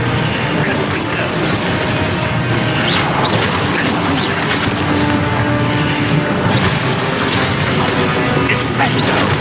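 A Confringo blast spell explodes amid continuous dense game battle noise in Hogwarts Legacy, with crashing, booming bursts layered over a loud, busy mix and a voice shouting spell names.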